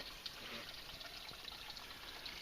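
A tiny woodland brook trickles beneath a fallen tree in a bluebell copse, a faint, steady watery babble with soft gurgles, heard from close by and with nobody speaking.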